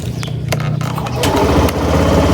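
A Suzuki Burgman Street scooter engine cranks and catches after a few sharp clicks, then settles into a steady, close idle that runs to the end.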